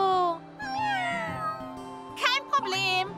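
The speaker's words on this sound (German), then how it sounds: "Das sind Titis bezaubernde Kätzchen." Kittens meowing in an animated children's cartoon about Tayo, several high, wavering meows one after another, close and fairly loud, with a sharp higher squeal near the end over a soft musical background.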